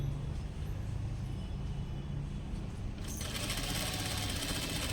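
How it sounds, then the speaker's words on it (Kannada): Sewing machine stitching thread piping on fabric, a steady continuous mechanical hum that grows brighter and busier partway through, with no talking. "ಕೂರಿಸ್ಕೊಂಡು ಇಲ್ಲೊಂದು ಸ್ಟಿಚ್ ಹಾಕ್ಕೊಳ್ಳಿ ಲಾಸ್ಟಲ್ಲಿ."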